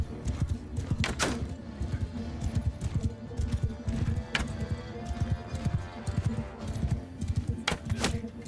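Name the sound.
horse hooves clip-clopping, video game Mount and Blade II Bannerlord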